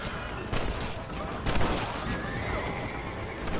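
A horse whinnies in the Western video game Red Dead Redemption, loud and shrill amid a dense, noisy game soundtrack with gunfire-like cracks and clatter, the call rising briefly above the constant roar.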